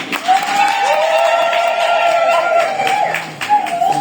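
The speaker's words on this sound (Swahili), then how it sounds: "Piga makofi kwa bwana harusi." Wedding guests applaud the bridegroom in a steady, dense burst of clapping that holds for several seconds, with a sustained voice sounding over the crowd before it briefly dips and picks up again.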